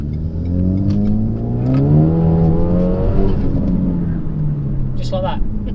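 A Renault Megane RS Trophy hatchback pulls hard through the gears, its engine note climbing and dropping at each shift, loud and close inside the cabin, with someone talking over the rising rumble.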